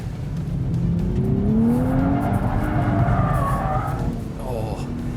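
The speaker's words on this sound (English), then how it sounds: "technically that was a power slide, okay? Got sideways after the apex" A 2023 Nissan Z, rear-wheel drive, slides sideways under power, its tires letting out a long rising squeal over a loud, steady engine roar, heard from inside or close to the car.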